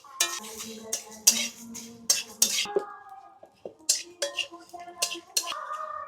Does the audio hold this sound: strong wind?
no